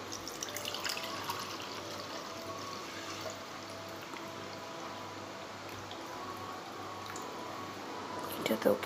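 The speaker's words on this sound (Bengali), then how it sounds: "তো আমি এখন দুধটা ঢেলে দিব।" Cow's milk is poured in a soft, steady liquid trickle close by, with a faint background hum and a small clatter at the end.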